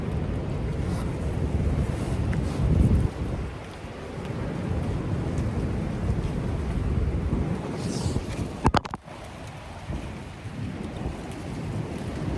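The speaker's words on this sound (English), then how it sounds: "I'm sure you can't hear me right now because of said breeze" Strong gusts buffet the microphone on a coastal walk, a loud continuous rumble with surging bursts and a sharp clatter partway through, with no voice heard.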